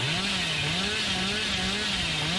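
Steady, loud buzzing snarl of the Hillbilly's chainsaw revving in the video game Dead by Daylight, a continuous wavering motor drone with no pauses.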